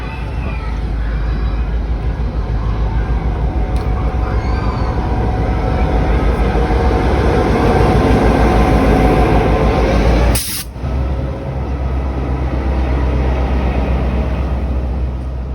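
Kuranda Scenic Railway train pulling into a station and braking to a stop: a loud, steady rumble of wheels and machinery runs throughout, with a sharp hiss of air brakes bursting out near the end before the rumble settles.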